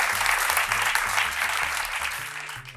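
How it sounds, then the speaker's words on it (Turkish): Studio audience applauding during a Turkish late-night talk show, a dense, steady wash of clapping that fills the whole stretch and tapers slightly near the end, with music faintly underneath. "Peki Ceyda Düvenci diyenler alkış."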